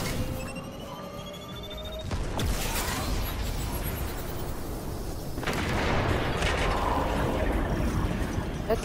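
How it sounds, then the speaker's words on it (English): Video game explosion: mechanical clanking and rattling give way to a sudden loud blast near two seconds, followed by a long rumbling roar that swells again toward the end. "It's gonna explode."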